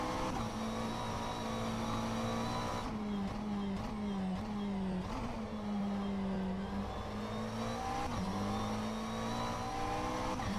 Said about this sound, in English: Look how fast that McLaren can go when you take it easy around it.